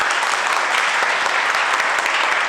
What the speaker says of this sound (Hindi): जोरदार ताली बजा रहा हूं अपने लिए